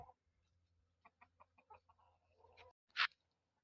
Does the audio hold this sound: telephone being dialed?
no